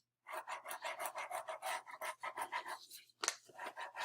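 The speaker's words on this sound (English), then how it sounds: "You can probably hear me coloring." A pen coloring in a shape on paper, scratching in quick repeated back-and-forth strokes, close and fairly loud, with a brief pause before the rasping resumes, no voices.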